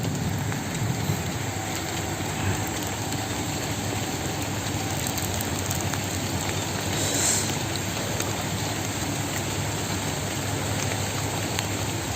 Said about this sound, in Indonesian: berhubung ini masih hujan